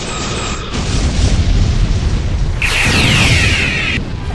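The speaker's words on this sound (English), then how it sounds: "Photon torpedoes, fire." A photon torpedo explodes in a Star Trek fan film battle, a heavy booming blast with a low rumble that swells, then a bright sweeping sci-fi whoosh and crackle before cutting off abruptly.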